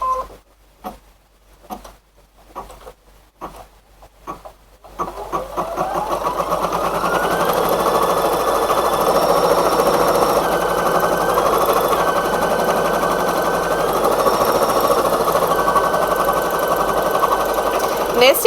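Computerized embroidery machine stitching a bear appliqué onto fabric, starting after a few seconds of talk and then running as a loud, steady, rapid mechanical hum and chatter close by.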